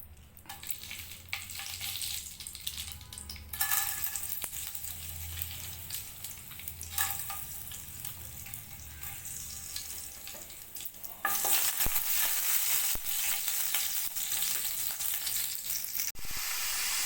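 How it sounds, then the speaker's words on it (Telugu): Oil heats in a pan for tempering gongura chutney, and onions go in: a moderate sizzle swells in bursts and turns into a louder, steady frying hiss toward the end, without speech. "తాలింపుకి ఆయిల్ పెట్టేశాను"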